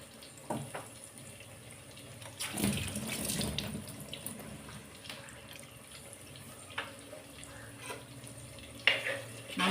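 Tap water runs steadily while freshly cut coriander leaves are washed at a kitchen sink, a soft continuous splash with a few louder gushes and rustles partway through.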